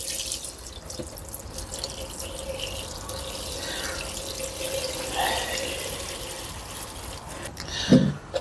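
Warm tap water runs into a seed tray for sowing pepper seeds, a steady, faint and fairly close trickle that gets a short, louder splash near the end.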